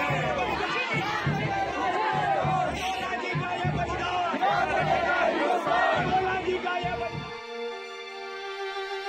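A dense crowd gathers in Haldwani for the last rites of martyred Lance Naik Chandrashekhar Harbola, a Siachen soldier found after 38 years, with loud continuous chatter and shouting voices. The crowd noise fades near the end into a steady sustained tone.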